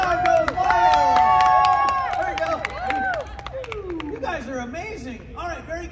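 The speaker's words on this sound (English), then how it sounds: "And the crowd goes wild." An audience at the 2022 New York Auto Show breaks into loud cheering and clapping, with whoops and whistles rising over a burst of applause that gradually thins out into scattered claps.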